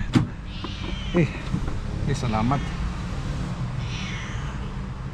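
A cat begs for food with a few short meows near the start and middle, mixed with a person talking nearby and a quiet outdoor background.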